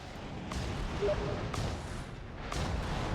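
Creeping barrage artillery fire in a Company of Heroes 2v2 match: three evenly spaced dull booms about a second apart, set against a constant rumbling battlefield bed, fairly distant and muffled.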